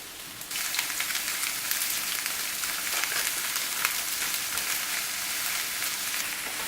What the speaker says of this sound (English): Block of butter into the onion and garlic mixture.